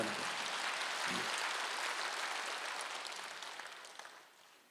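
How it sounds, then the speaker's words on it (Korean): A church congregation applauds during a Wednesday worship service, with broad steady clapping that holds and then slowly fades, with no talking. "박수하세요."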